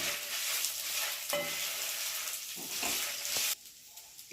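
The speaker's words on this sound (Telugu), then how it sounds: "అప్పటి వరకు వేయించాలి అల్లంని కూడా కలిపి" Chopped ginger pieces frying in a pan with lentils, a steady close sizzle with occasional stirring scrapes, the sizzle dropping away near the end.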